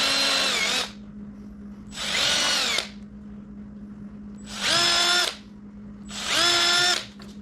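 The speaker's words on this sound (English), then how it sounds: "Drill some pilot holes and and put the screws in." A power drill bores pilot holes for screws in a wood board during sawhorse building, in four loud whining bursts of under a second each, separated by pauses of quieter background hum.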